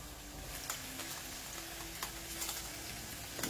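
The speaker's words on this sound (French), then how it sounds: "ils ont bien sué, les oignons et le poivron émincé" Onions and sliced bell pepper sweat in a pan for a rice vermicelli stir-fry with prawns and Chinese spinach, a faint, steady sizzle with a few light stirring ticks.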